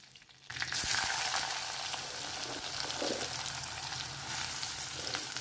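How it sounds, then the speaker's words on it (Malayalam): Mustard seeds splutter and sizzle in hot oil with curry leaves and chopped plantain, a steady close frying hiss that starts abruptly and continues with scattered pops and occasional stirring. "കടുക് ഒന്ന് പൊട്ടി വരുമ്പോൾ നമുക്ക് കറിവേപ്പില ഇട്ട് കൊടുക്കാം"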